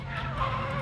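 Tires on a Nissan 350Z squeal as the car drifts around Sunrise Circuit on Zenew Xlargo TW380 tires, a loud sustained skid with a wavering pitch over engine roar.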